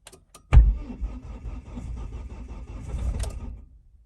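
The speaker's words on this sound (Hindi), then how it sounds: "ये देखिए सेल्फ मारता हूँ।" Car engine cranking on its starter motor in freezing snowy cold near Sonmarg, Kashmir, a sharp clunk followed by a steady labored grinding whir that strains for about three seconds without catching.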